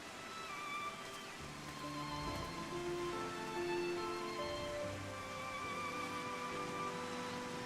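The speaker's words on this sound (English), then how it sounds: "I'm tired of standing in this downpour of rain as we casually talk" Steady downpour of rain in Final Fantasy XIV, an even hiss of drops on surfaces with faint tonal game music layered underneath and no talking.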